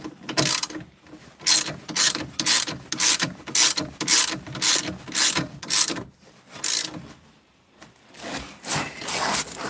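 A ratchet wrench tightens a control arm bolt on a 2018 Ford Escape's rear suspension. Close, loud bursts of rapid pawl clicking come in quick regular strokes, pause briefly, then resume.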